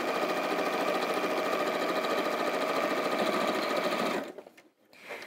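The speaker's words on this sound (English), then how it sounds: "sew across each pocket quite quickly at this stage" A sewing machine runs fast and steady for about four seconds while stitching across the pockets of a fabric caddy bag, then stops abruptly, leaving faint handling noise.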